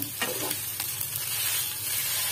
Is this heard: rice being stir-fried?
yes